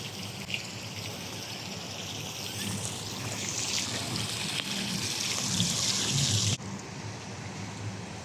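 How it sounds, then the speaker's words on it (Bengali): Water from a park fountain in Sharjah, Dubai runs and splashes in a steady, fairly faint rushing wash that cuts off abruptly near the end, with no talk over it. "সুন্দর ঝর্ণা"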